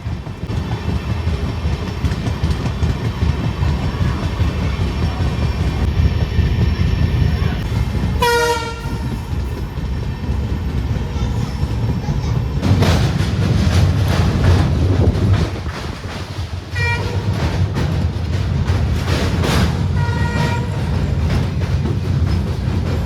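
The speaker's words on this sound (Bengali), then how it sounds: "আমাদের ট্রেন এখন এসে পৌঁছালো শিলিগুড়ি জংশন" A tourist special train with a vistadome coach at the rear rumbles steadily along a single-track line near Siliguri in the Dooars, sounding several loud horn toots over the constant wheel and carriage noise.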